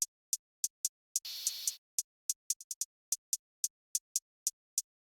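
A drill hi-hat pattern from a drum kit sample: crisp, evenly spaced ticks in a steady bouncing rhythm, a sustained open hat near the start, and a quick triplet-like roll midway, all dry and up front.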